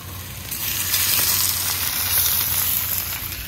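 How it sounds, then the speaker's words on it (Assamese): Pork sizzles loudly in a pan over a village cooking fire in Assam. A steady, close crackle of hissing fat runs throughout with no voices over it. "গাহৰিখিনিও দি দিলোঁ ধুনীয়াকৈ"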